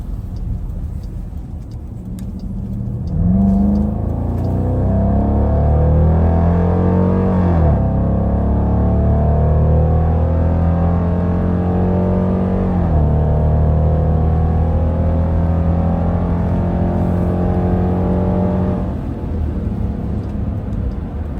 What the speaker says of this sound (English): I'm just going to stop talking and let you hear the beauty of this V8.